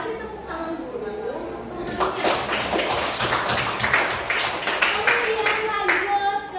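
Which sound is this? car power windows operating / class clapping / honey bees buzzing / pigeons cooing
class clapping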